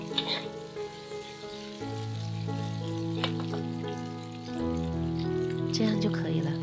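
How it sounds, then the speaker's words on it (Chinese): Food pan-frying in oil until the surface turns lightly golden, a steady close sizzle running throughout beneath soft music and a few light clinks. "煎至表皮稍微有些金黄就好了"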